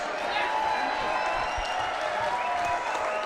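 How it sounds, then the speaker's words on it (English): Audience applause for two boxers in the ring at a professional fight in Detroit, steady dense clapping from a large crowd throughout, with crowd murmur and some voices mixed in. "a big round of applause for both of the boxers in this ring, please"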